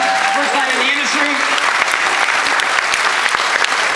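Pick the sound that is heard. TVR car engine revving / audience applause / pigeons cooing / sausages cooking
audience applause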